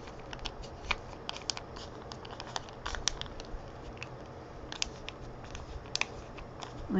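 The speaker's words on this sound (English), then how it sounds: "Just get it wet. Keep rubbing off the back paper." Wet backing paper being rubbed off an art transfer, a steady close-up scratchy rubbing and scraping with irregular gritty bursts and small crackles throughout, with no voices.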